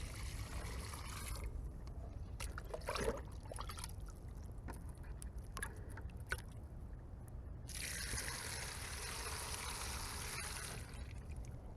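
Bucket water pours through drainage pipes in a flow test comparing PVC and corrugated pipe, a quiet continuous trickle and rush with a few faint knocks, stronger at the start and again toward the end.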